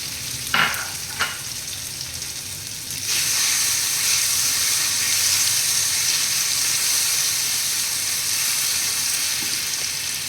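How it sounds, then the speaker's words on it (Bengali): Walnut-tomato paste drops into hot oil in a pan. After a couple of light taps, a loud, steady sizzle bursts up and hisses continuously and close for the rest of the time. "এবার আমি এই বাটাটা দিয়ে দেবো।"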